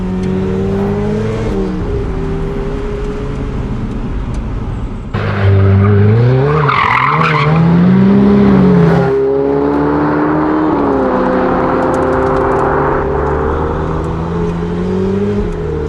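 A Ferrari 488 Pista Spider engine revs loudly, climbing in pitch and dropping sharply at each quick gear change, several shifts in a row, close and prominent.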